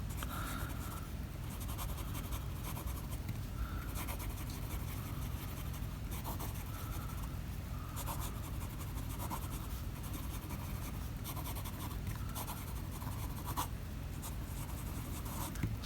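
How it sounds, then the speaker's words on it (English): A Kanwrite Saloon fountain pen with a flex nib writes on paper in green ink, giving a soft, continuous scratching and rubbing, faint and close, with small rhythmic strokes and no talking. "You will hear some feedback from the nib, but it is okay. It's not scratchy."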